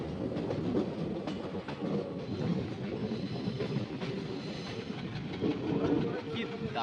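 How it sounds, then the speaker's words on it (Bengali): Kollam Express rolls along behind a diesel engine, its carriage rumbling and wheels clicking over rail joints in a steady rhythm, heard from inside the coach with some background voices. "অনেক দিন পর ডিজেল ইঞ্জিনের সাথে ট্রাভেল করছি আমি।"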